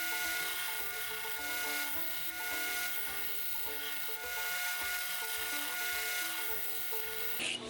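Continuous grinding or filing on a scrap 1095 steel knife blade, refining the plunge line, a steady abrasive rasp under a constant motor-like drone, close and fairly loud with no pauses.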